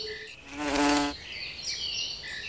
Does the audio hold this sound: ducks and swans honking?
no